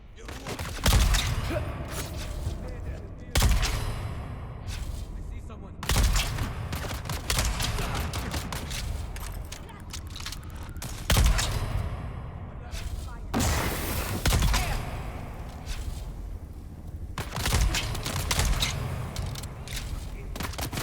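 Gunshots in Dune Awakening crack out in irregular bursts of loud, heavy reports with booming tails, spaced a few seconds apart over dense combat ambience, with a voice talking between the shots.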